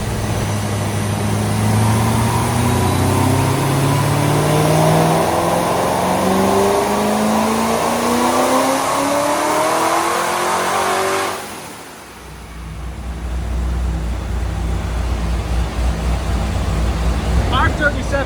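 A Corvette C5 Z06 pulled from a storage locker runs after years unused, its engine revving up in a rising, loud sweep, then dropping back to a steady rumbling idle close by.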